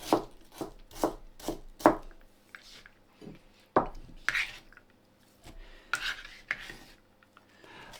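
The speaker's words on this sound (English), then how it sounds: "So this is just some white cabbage, which I'm finely slicing" A knife finely slicing white cabbage on a board: a quick run of sharp, crisp chops, a pause, then scattered slower cuts, close and fairly quiet.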